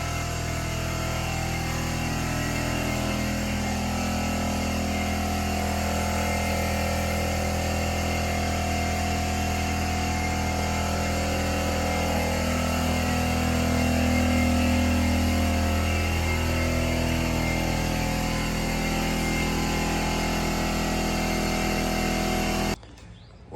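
A tractor approaching, a steady loud engine drone that swells slightly in the middle and holds at close range throughout, then cuts off abruptly at the end.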